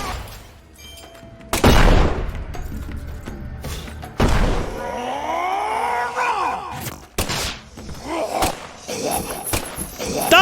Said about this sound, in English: They explode! Why did they explode?